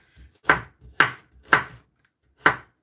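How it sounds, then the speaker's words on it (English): Ginger is roughly chopped with a knife on a board, four crisp close thuds in a steady rhythm, each preceded by a softer tap, with silence between. "You'll be needing about 1 to 2 thumbs of ginger, and I'm just gonna roughly chop it"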